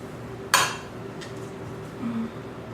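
A utensil scraping mayonnaise off against a bowl, one sharp clink followed by a couple of softer scrapes, close and quiet, with no voice.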